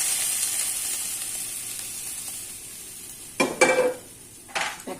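Hot oil with a five-spice tempering for mixed vegetables, a faint background fry that erupts into two short bursts of loud sizzling as the spices hit, with no voices.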